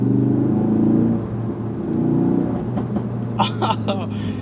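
A Ford Focus RS shifts from second to third gear: a close engine drone drops away, picks up again, then gives way to crackling exhaust pops. Engine noise continues throughout.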